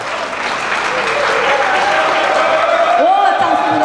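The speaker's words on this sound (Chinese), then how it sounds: "现在让我们以最热烈的掌声来欢迎我们今天的讲师陈文生讲师" Warm, sustained audience applause greets a guest lecturer at a community association gathering, a close, steady roar of clapping with a brief whoop near the end.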